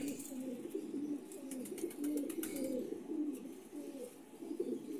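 Pigeons coo steadily at close range in a loft or flock, a continuous layered murmur of low warbling calls with a few brighter chirps, no voices over it.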